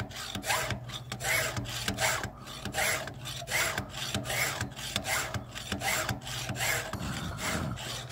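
A chainsaw tooth is filed in a Stihl FG2 bench-mounted file guide, a rhythmic rasping of repeated strokes back and forth, close and clear, with no one talking.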